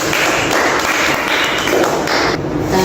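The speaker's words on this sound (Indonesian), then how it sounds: "Beri tepuk tangan dulu" A classroom audience gives steady applause, dense clapping that fills the short span from start to finish without pause.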